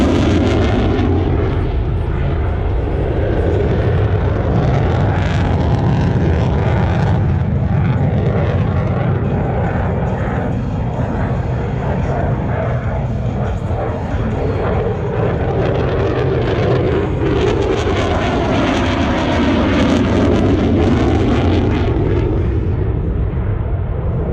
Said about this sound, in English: F16 による急重旋回をご覧ください。